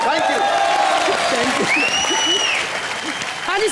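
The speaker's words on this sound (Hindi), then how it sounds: "जोरदार तालियां हो जाए।" A studio audience on a comedy show claps loudly and continuously, with a bit of cheering and a voice talking over the applause.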